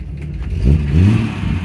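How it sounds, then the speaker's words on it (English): A 1941 Chevrolet Special Deluxe engine gives a quick rev, a short close rise and fall of low engine roar lasting under two seconds. "it revs really well"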